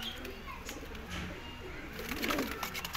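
Pigeons coo softly in a loft in Pakistan, low repeated throaty calls over a quiet background with faint chirps and clatter, brief muffled voices nearby.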